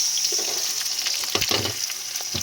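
Garlic and onion sizzling in a hot pan with ginger already in, a steady close frying hiss with a few stirring scrapes partway through.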